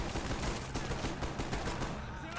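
Rapid gunfire from a Black Ops multiplayer match, dense and continuous, with booming low blasts packed tightly over a busy battlefield background.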